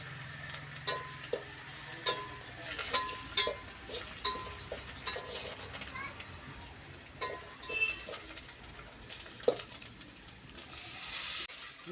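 Cumin and onion sizzle and fry in a pan in a home kitchen, a soft steady crackle broken by scattered sharp clicks of stirring, with faint birdsong in the background.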